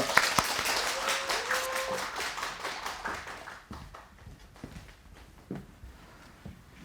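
Applause at a hospital quality-improvement conference: a fairly quiet, brisk patter of many hands for about three seconds, then tapering into sparse, scattered claps.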